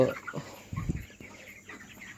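A 22-day-old chicken gives a few soft, short clucks nearby, brief low bursts over a quiet background.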